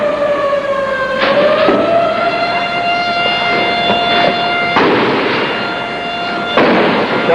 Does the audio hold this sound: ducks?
no